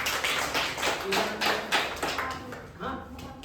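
An audience claps for the team at a Guru Nanak Gurpurab celebration, with steady, dense applause running through the whole moment.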